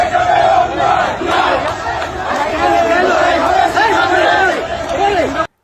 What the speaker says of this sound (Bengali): চাচ্ছু দলের মিছিল দেখেন